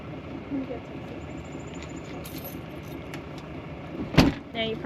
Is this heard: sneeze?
no